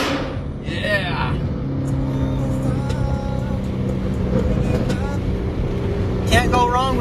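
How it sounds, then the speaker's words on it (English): A car with a loud exhaust drives along, a steady low engine drone with surges of revving throughout, while people talk over it inside the cabin. "Can't go wrong with a loud exhaust."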